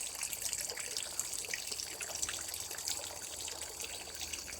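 Water trickles and splashes steadily through a garden pond waterfall fed from an intake bay, a continuous close, moderately quiet babbling flow with no voices.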